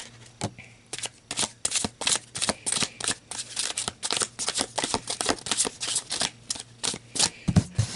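Playing cards shuffled in the hands for a tarot reading, a close, brisk run of riffling flutters and snaps repeating in steady bursts, heard alone.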